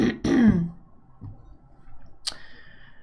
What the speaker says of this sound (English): apparently I'm having a cough.